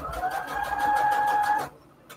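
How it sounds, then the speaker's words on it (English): A sewing machine drives a quick straight stitch through fabric laid on index cards, its rapid regular whir close and loud for about a second and a half before cutting off, with a small click at the end. "let's get that straight stitch in there"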